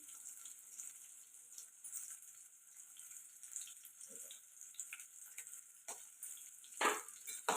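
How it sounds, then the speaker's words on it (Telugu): Curry leaves fry in hot oil in a pan, a steady soft hiss and sizzle with occasional scraping clinks of a spoon stirring, fairly quiet and close. "ఇప్పుడు కలుపుకుంటూ ఫ్రై చేసుకున్నాం"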